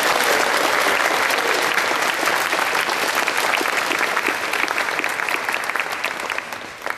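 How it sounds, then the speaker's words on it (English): A wedding audience bursts into dense, sustained applause during the groom's speech, many hands clapping loudly and evenly before tapering slightly near the end. "So big round of applause to them, please."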